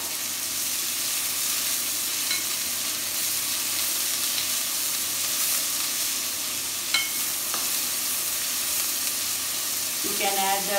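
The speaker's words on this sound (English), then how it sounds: "you should add the chopped onions and keep stirring" Chopped onions sizzle steadily in hot oil for a mango dal curry, a continuous bright frying hiss with a few scrapes of stirring near the end.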